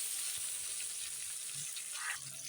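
Soft, continuous sizzle of flat beans frying in a pan, faint and even, with a light stir near the end and no talking.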